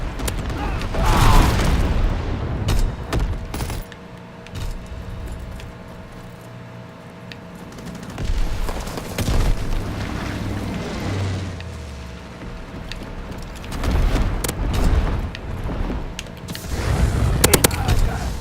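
Gunfire from a shotgun in Call of Duty: WW2, with sharp booming shots in bursts separated by quieter stretches of in-game mechanical clatter and footsteps.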